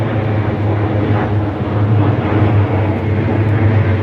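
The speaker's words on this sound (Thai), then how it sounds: "มาแล้วครับเครื่องบิน" An airplane flies over a home near Suvarnabhumi Airport in Bangkok on an overcast, stormy day, a loud steady roar that fills the air without pause.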